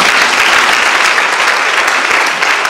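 A church congregation celebrating Pentecost bursts into loud, dense, continuous applause, many hands clapping together without a break.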